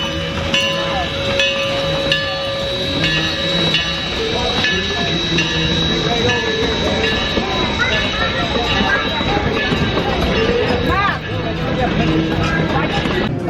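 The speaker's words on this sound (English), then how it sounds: "It's a cool little train" A small amusement-park train rumbles steadily along the track at a Halloween event, with squealing wheel tones and clatter, continuous and fairly loud, with voices mixed into the background.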